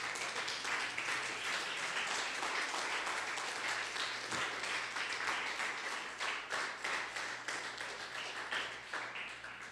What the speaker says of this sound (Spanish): ¿Alguien puede darle un aplauso al Señor todavía?